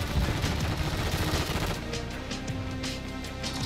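A sniper rifle in a video game, the new MORS sniper, fires in a dense burst of gunfire that sounds loud and close, then drops to a quieter stretch with scattered sharp reports.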